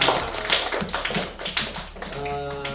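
Schoolchildren in a classroom clap for a classmate's perfect score, a burst of quick, uneven hand claps that fades off, followed by a steady tonal sound near the end.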